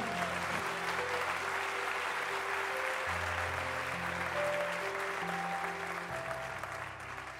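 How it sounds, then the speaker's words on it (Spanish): A church congregation claps hard and steadily for the full stretch, a dense, even wash of applause with music sustaining softly underneath. "Dele un fuerte aplauso a Jesús."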